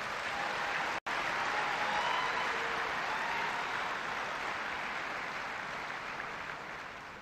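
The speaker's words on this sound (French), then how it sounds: "je vous demande de les applaudir une fois de plus" Audience applauding workers at an inauguration ceremony in Kinshasa, a broad, steady wash of clapping from a large crowd, fairly distant and slowly fading toward the end.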